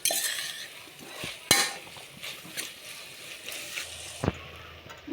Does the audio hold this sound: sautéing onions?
yes